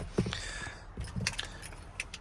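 Keys jangle near a modified Viper RT/10 truck, a few bright metallic rattling bursts close by with brief pauses between them.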